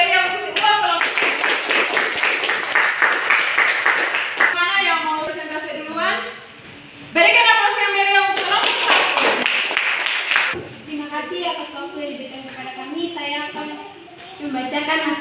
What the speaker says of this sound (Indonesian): Berikan aplaus yang meriah untuk semua kelompok.